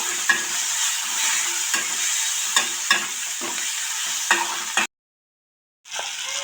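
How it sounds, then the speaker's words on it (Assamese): Chopped tomatoes fry in a pan with a steady, loud sizzle, while a spatula scrapes and stirs in regular taps; the sound cuts out briefly near the end, then the sizzling resumes. "এতিয়া এড কৰিছোঁ কাটি থোৱা বিলাহীখিনি ধুনীয়াকৈ অকণমান ভাজি ল'ম।"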